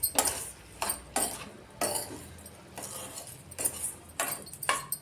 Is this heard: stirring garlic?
yes